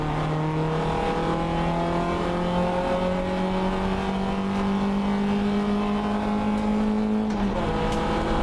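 Race cars on the opening lap of a wet race hold a sustained, loud engine drone with gradually rising pitch, heard from inside one of the bunched cars. A brief shift-like break comes near the end.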